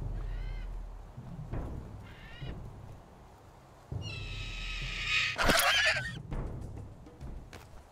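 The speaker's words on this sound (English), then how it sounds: "Now we're going to get attacked by a bird." A bird in the survival video game Survival: Fountain of Youth gives honking, goose-like calls, first in short bursts and then in a loud, harsh squawking cry that stands out clearly from a steady low ambient drone.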